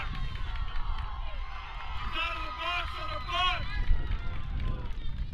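Baseball crowd at a high school game reacting to a suicide squeeze bunt, a broad outdoor murmur of voices and shouts that swells briefly mid-play before settling back into steady background babble.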